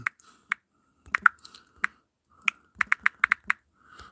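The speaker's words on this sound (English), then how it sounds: "I'm typing a question in the chat here" A computer keyboard clicks as a question is typed into a chat, scattered sharp single keystrokes and then a quick run of taps, close and clear with no talking.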